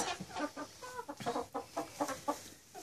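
Hens cluck softly on a newly built roost, a quick run of short, rhythmic clucks from a few birds, fairly faint and close, with no other sounds.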